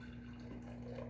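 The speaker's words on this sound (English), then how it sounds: "I'm going to add in some warm water" Warm water poured into a switchel mix of turmeric, salt and maple syrup, a brief, faint steady trickle of liquid close by.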